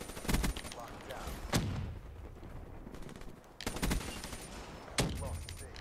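Bursts of automatic gunfire in Call of Duty Black Ops 3, a Domination match on the Infection map, come in about four loud, sharp volleys separated by brief pauses, with quieter game noise between them.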